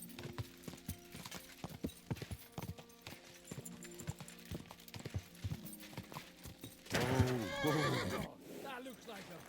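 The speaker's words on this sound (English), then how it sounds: "That looks like a bloody expensive horse." Horse hooves clip-clop in a steady rhythm in the video game Kingdom Come Deliverance II, followed by a loud, close neigh near the end, with talking heard over the hoofbeats.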